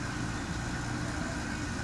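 A Yamaha XJ6 motorcycle engine idles at a gas station, a steady, even rumble that holds without change from start to finish, with no voices over it.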